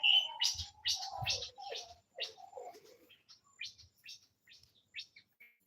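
Birds chirp outdoors in Nigeria, a close series of bright, clipped calls in uneven bursts, the first few louder and fuller before fainter, higher tweets follow at a slower pace.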